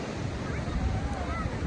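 Surf rolling onto Alibag beach, a steady broadband wash of breaking waves with wind buffeting the microphone throughout, fairly loud and continuous with no distinct individual crashes.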